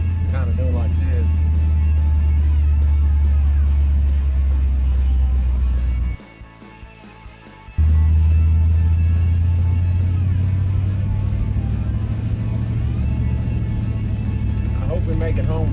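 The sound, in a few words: 1960 Cadillac Series 62 driving with vibration from a rear tire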